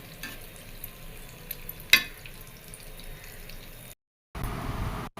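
Purnam boorelu frying in hot oil, a soft steady sizzle with a faint scrape as they are stirred with a stick, one brief sharp click midway, then a short break.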